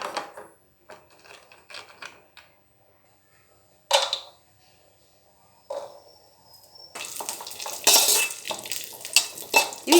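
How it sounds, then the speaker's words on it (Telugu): Dry fruits go into a wide pan to fry for sweet chakkara pongali; scattered metallic clinks and scrapes of stirring come first, followed by a rising, steady sizzle mixed with more utensil clatter. "వీటన్నిటిని ఫ్రై చేసుకుందాం"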